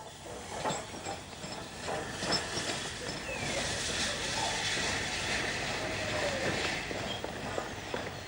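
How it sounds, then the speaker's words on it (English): A 1930s steam train rumbles past at a distance across fields, a steady broad roar with clanking and rattling carried across open ground. "And across the fields comes a typical 1930s train."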